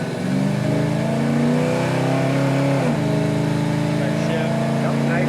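A 1970 Dodge Charger 500 pulls away in first gear from a rolling start, its engine note rising steadily and loud before a brief dip around a gear change, then climbing again as it keeps accelerating.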